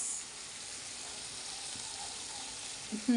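Turmeric hits hot oil in a pan while frying okra, giving a steady, close broadband sizzle throughout, with a faint clink near the end.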